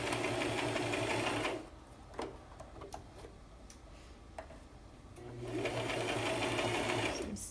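A sewing machine runs steadily while stitching a sleeve seam, pauses for several seconds of soft clicks and handling, then starts up again in a close, even whir.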